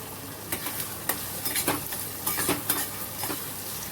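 Mustard seeds, cumin and curry leaves sizzle and crackle in hot oil in a pan, with scattered pops and scrapes and a few light utensil clinks throughout.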